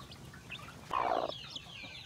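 A chicken gives a single short cluck among newly hatched chicks, brief and soft against a quiet farmyard background.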